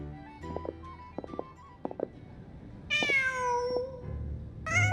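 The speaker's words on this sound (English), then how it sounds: "Just a cat." A cat in Genshin Impact gives a clear, drawn-out meow midway through, with a second meow starting at the end, over faint game ambience and soft clicking sounds.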